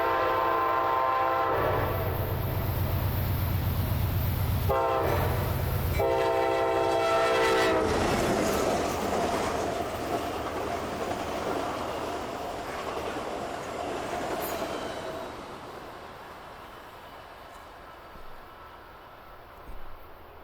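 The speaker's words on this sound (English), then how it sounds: "Here comes Amtrak 500, service from Eugene, Oregon to Seattle" Amtrak 500 passenger train on the Eugene, Oregon to Seattle, Washington run, passing at Tenino with loud sustained horn blasts up close, then rolling rumble and wheel clatter fading steadily into the distance.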